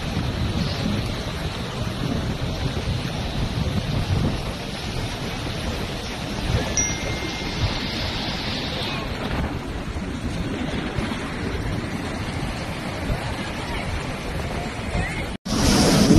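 The Godavari river in heavy flood near a town market area, with rushing water and wind: a constant, loud, broadband roar with gusty wind rumble on the microphone throughout, ending in a brief sharp cut.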